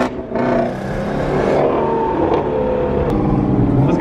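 A Whipple-supercharged Ford Cobra engine revs loudly up close, a throaty roar that holds steady and swells slightly before easing off.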